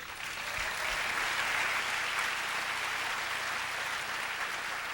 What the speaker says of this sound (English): So we need to give them a warm round of applause